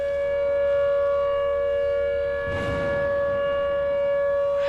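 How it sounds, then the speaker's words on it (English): A civil defense tornado siren from a storm-chasing video game wails as a steady, loud sustained tone, with a brief whooshing burst of noise passing midway. "I want to get much better Siren model."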